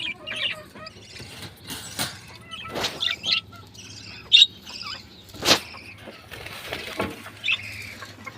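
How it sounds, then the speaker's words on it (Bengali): A pair of yellow pet birds in a cage give scattered, fairly faint chirps and short tweets over several seconds, with occasional wing flutters and light knocks mixed in. "আর এক জোড়া হলুদ পাখি জোড়া এখনও ডিম দেয়নি"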